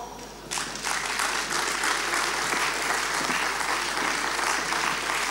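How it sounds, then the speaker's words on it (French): Audience applause at an award ceremony handing out company skills certificates, starting abruptly after a quiet moment and continuing as a loud, sustained wash of clapping from a large crowd. "Donc sous vos applaudissements."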